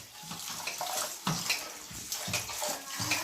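Moong dal and rice flakes being washed by hand in a bowl of water, with steady sloshing and splashing, close up and continuous with no talk.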